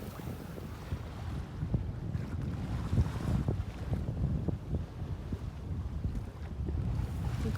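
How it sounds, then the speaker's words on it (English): A steady offshore breeze buffets a sailboat on a broad reach, with gusty wind rush and soft water wash underneath. The sound stays fairly quiet and continuous, with no talking. "Nice conditions out here. Offshore breeze, lovely."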